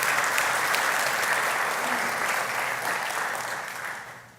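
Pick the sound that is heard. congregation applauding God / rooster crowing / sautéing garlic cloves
congregation applauding God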